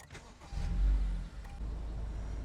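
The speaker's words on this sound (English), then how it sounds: "I'm just gonna start up the engine, just see how it goes" The engine of a 2018 Acura ILX starts up right after a spark plug change, a low cranking surge settling into a steady idle rumble heard from inside the car.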